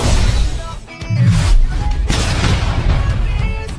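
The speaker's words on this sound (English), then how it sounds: "After a violent explosion, the zombies behind Zirin are falling out of control." Violent explosion sound effect booms loudly, a heavy blast with a short dip and then a second rumbling burst and crackling debris that rolls on for several seconds.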